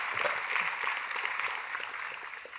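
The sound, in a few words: audience round of applause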